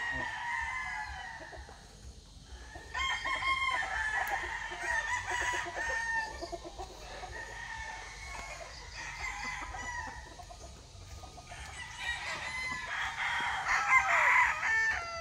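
Several roosters crow repeatedly on a farm, overlapping one another with loud, drawn-out calls, alongside some clucking from nearby fowl.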